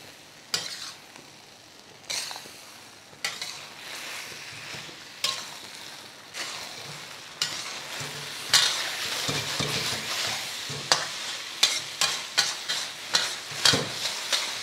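Dragon chicken stir-fried in a pan over a high flame, with a steady sizzle broken by repeated scraping and tossing strokes that grow louder and more frequent toward the end, no talking.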